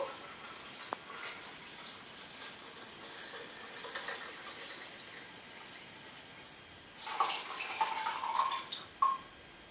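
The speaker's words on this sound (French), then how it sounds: "Vous mettez 1 litre d'eau." One litre of water poured onto 100 g of oats for homemade oat milk, a splashing pour that rises near the end after a quiet stretch with faint drips.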